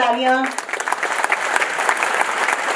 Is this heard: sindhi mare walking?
no